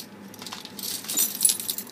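Keys on a carabiner jangle and clink in a brief, fairly quiet metallic rattle, building to a few close chiming shakes.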